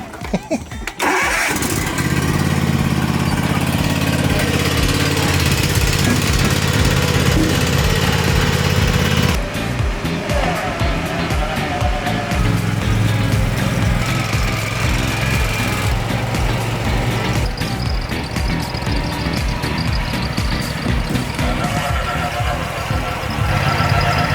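A Walker lawn mower engine starts and runs steadily and loud, close by, while the mower is loaded onto a stacked trailer, with the engine note shifting partway through and people talking over it.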